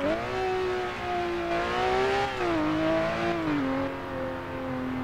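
A car engine revving in the racing video game Driving Empire, a loud, continuous whining tone that climbs, dips and settles across several gear shifts with no pauses.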